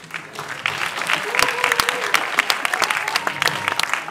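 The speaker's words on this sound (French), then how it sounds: "Donc ça mérite des applaudissements." Audience applause at a short film festival in Pointe-Noire, 2022: dense, steady clapping from a crowd that swells after a quiet start and keeps going, with scattered sharp claps standing out and some voices mixed in.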